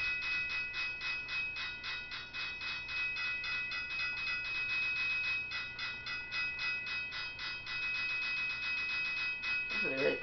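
A railroad crossing gate bell in the Trainz Simulator 12 train game rings in a fast, steady repeating clang for the whole stretch over a low hum, fairly faint.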